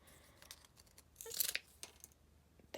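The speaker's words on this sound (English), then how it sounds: "I'm just going to cut these down" Scissors snip through paper to trim the tips off handmade paper deer antlers for a wall decoration, giving a few quiet crisp cuts and rustles, with one louder slicing burst in the middle.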